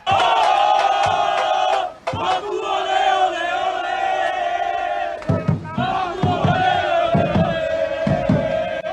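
Football supporters chanting and cheering loudly as their team enters the stadium, a dense, close crowd roar that drops briefly around two seconds, then swells again with rhythmic chants and shouts.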